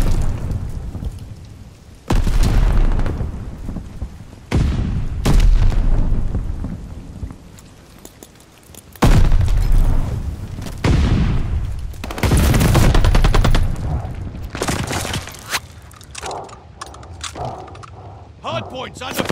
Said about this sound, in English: Hard points under fire.